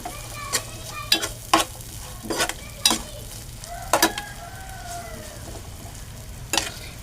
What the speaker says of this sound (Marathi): कांदा जरा तांबूस होईपर्यंत परतून घ्यायचा.